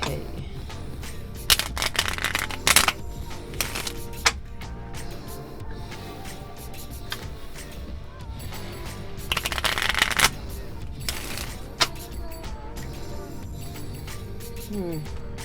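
Tarot cards being shuffled indoors, several quick riffling bursts, crisp and close, separated by quieter stretches in which a person talks.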